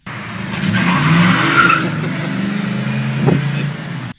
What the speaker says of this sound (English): Cars driving through the neighborhood, or neighbors honking their horns or squealing tires.